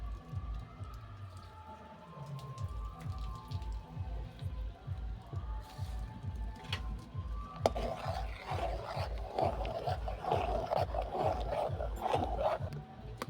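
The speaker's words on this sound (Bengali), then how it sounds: "এইভাবে অনেকক্ষণ ধরে নাড়তে হবে, দুধটা যতক্ষণ না রেডি হচ্ছে" A spoon stirs milk with cardamom in a pot to make sweet misti doi, producing a quiet, regular rhythm of soft scraping strokes about two per second, with faint clinks and background hiss.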